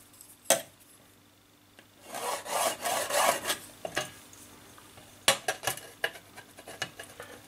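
A ruler and marker scrape and rasp across a flat metal reflector plate for a homemade double biquad WiFi antenna while two diagonal lines are drawn, with a sharp tap and bursts of short scratchy strokes nearby.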